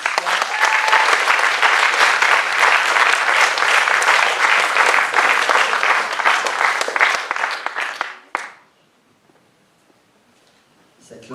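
An audience claps for improv performers at an improvisation festival, a dense, loud, steady wash of applause lasting about eight seconds and then cutting off sharply into near silence.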